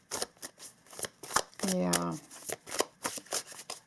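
Tarot cards shuffled by hand in quick, crisp riffling bursts repeating close up, with a brief spoken word midway.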